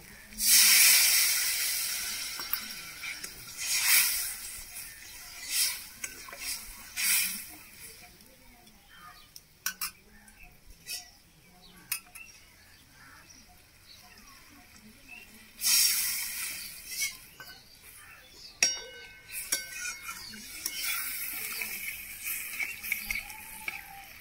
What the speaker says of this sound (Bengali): মশলা ভাজা হয়ে গেছে, মশলার একটা গন্ধ আসছে ভালো। এবার আমি জল দিয়ে দেব।